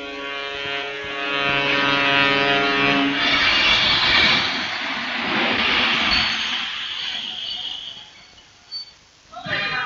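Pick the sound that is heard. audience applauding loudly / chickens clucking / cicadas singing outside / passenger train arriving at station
passenger train arriving at station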